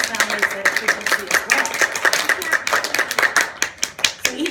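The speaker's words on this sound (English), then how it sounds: "every time I clap, I'm pushing the molecules in front of my hand together" Rapid bursts of a person's hands clapping in a classroom sound-waves lesson, sharp close claps repeating irregularly and loud.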